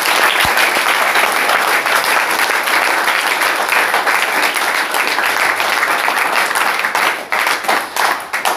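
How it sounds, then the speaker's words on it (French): Loud, dense applause from a church congregation clapping for the Lord, continuous and enthusiastic throughout with a crowd murmur beneath it. "Applaudissons pour notre Seigneur."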